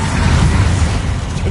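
A Confringo explosive spell cast in Hogwarts Legacy, a short loud burst of crackling, rumbling noise with no pause.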